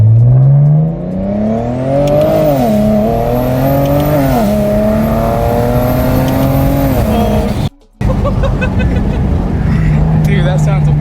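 A modified BMW in a video game accelerates hard from a standstill, its engine revving and climbing through gears with a loud, rising whine, and voices talking over it.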